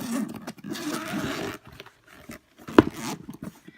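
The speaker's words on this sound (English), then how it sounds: "it has the 2 zippers right here." A fabric pencil case made to hold Prismacolor colored pencils is unzipped close up, giving a coarse rasping zip run followed by a sharp click or snag.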